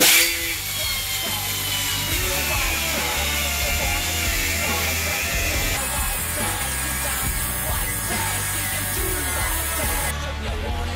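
A power saw cuts through a steel floor section of a Nissan R31 being built for drifting, a steady loud buzzing drone that runs continuously for the whole stretch with no talk over it.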